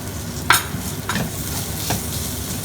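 Chopped green chilies hit a sizzling pan of hot oil and are stirred in, with a sharp scrape near the start, then steady frying crackle and a few more stirring strokes, close by with no voices.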